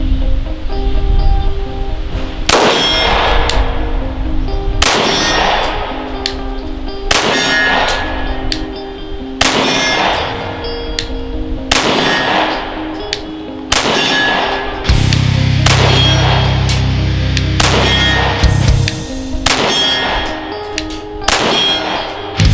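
Pistol rounds from a Rex Zero 1 fired from a seated position and striking a steel target, about eight sharp shots spaced a couple of seconds apart, each a loud crack followed by a ringing metallic clang, with no talk.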